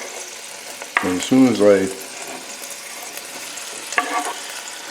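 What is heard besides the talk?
sauteing ingredients for pork and black bean stew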